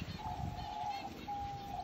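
A small grey diamond dove gives a soft, faint, sustained coo in two drawn-out phrases against quiet background noise.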